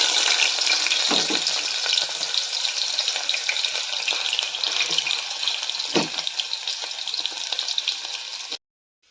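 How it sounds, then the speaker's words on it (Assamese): Onions hit hot ghee and refined oil in a pan and set off a loud, continuous close sizzle with occasional stirring scrapes. The sizzle stops abruptly at the end. "এতিয়া তেলখিনি গৰম হৈ গ'ল এতিয়া পিঁয়াজখিনি"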